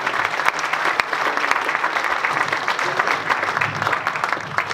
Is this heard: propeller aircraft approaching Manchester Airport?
no